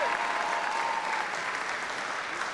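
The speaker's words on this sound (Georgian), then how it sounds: "აპლოდისმენტები." A studio audience at a Georgian televised music competition semifinal applauds in a steady wash of clapping. It sounds moderately distant and even throughout the short burst, with a faint tone running briefly under it.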